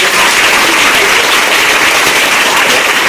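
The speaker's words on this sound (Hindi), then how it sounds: "फिर तो ताली।" A loud, dense burst of audience clapping fills the whole stretch, steady and close with no voices over it.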